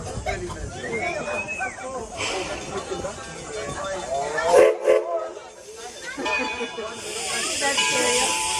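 The 4-4-0 No.1 Edison steam locomotive hisses steadily during a passenger ride, with a whistle-like tone and bursts of steam, while a voice talks over it throughout.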